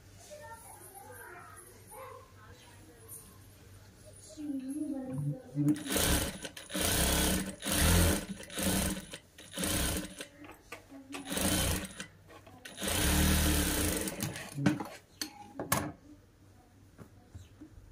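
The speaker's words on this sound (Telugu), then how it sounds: "ఇప్పుడు ఇంకొక స్టిచ్ వేసుకుందాము." A sewing machine stitches a child's long frock made from an old saree, running in repeated close bursts of one to two seconds with short gaps. Quieter handling sounds come before the first burst, and a voice talks through part of it.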